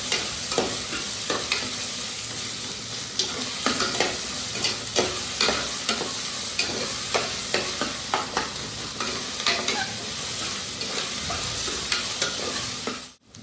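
Sliced onions sauté in a hot pan while a spoon stirs them, producing a constant sizzle broken by repeated scraping clatters, close and loud, with no talking.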